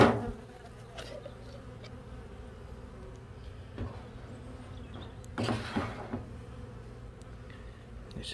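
Buzzing of about 300 honeybees collected in a container for a varroa mite test at an apiary treated only with oxalic-acid strips, a steady close hum with a couple of louder rustling swells.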